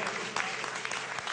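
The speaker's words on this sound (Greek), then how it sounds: "Χειροκροτήστε τα παιδιά μας." Audience applause at a live televised Greek music performance, a dense, steady burst of clapping from a crowd, close and loud throughout.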